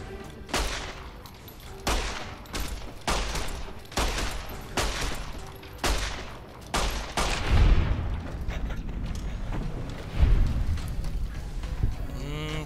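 Gunfire in Fallout: New Vegas, a string of regularly spaced, sharp shots roughly every second, followed by heavier, denser blasts and rumbling booms later, fairly loud and close.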